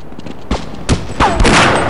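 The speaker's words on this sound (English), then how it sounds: "Stop shooting me" A handful of sharp gunshots and booms from a Half-Life firefight against Black Ops soldiers, spaced irregularly and loud, with a brief vocal sound between them.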